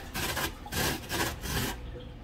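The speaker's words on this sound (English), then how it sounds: "the easiest way to skin it is just to use the grater." Fresh turmeric root scraped against a kitchen grater gives a close, dry rasping in about four quick back-and-forth strokes, each a short gritty scrub.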